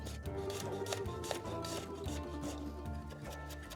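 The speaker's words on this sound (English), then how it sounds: "Chop up a little garlic." Rapid knife chopping of garlic on a board, a quick run of close crisp taps in an irregular rhythm, heard over soft background music.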